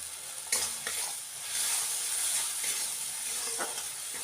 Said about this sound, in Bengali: খুব ভালো করে কষিয়ে নেবো মশলাটাকে